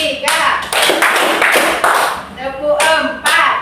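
A class of children clapping hands in unison during a stretching warm-up, several loud sharp group claps in a counted rhythm, with a teacher's voice and children calling out between the claps.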